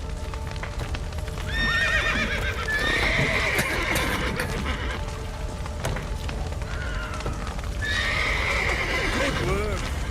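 Horses whinny and neigh repeatedly in The Witcher 3: Wild Hunt over clattering hooves during a rescue from a building with a collapsed roof, with people shouting in between amid a busy, rumbling background.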